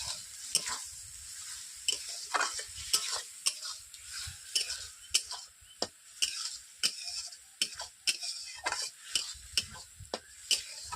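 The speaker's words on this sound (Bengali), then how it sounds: "এভাবে মশলাটাকে আমি পাঁচ মিনিট ধরে কষিয়ে নিচ্ছি" Spices and chopped capsicum sizzle in a pan with a little water under a constant frying hiss while a spoon scrapes and taps rhythmically, close and repeated.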